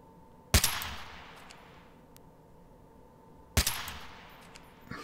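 Two loud, sharp sniper rifle shots in the video game Freeman: Guerrilla Warfare, spaced about three seconds apart, each with a ringing tail over a quiet background.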